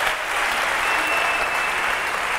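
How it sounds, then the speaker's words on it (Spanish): A live comedy audience at a Spanish talk show bursts into steady, dense applause, clapping loud and sustained throughout with no voices over it. "Un aplauso para esos estudiantes."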